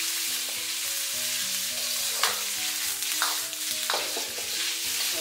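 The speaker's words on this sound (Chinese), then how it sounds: "开中火给它慢慢的煸炒，煸炒出里面多余的肥油。" Pork belly sizzles steadily as it is stir-fried over medium heat for Hunan spicy pork, with a continuous close crackle and a few scraping stirs of the spatula.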